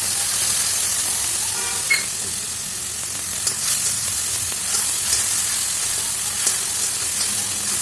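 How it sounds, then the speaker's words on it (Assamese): Spice paste with onions fries in oil in a pan, a loud, steady sizzle with occasional small pops and crackles throughout, and no talking. "এইয়া দেখিলেনে উতলি উতলি তেল ওলাই গ'লগৈ।"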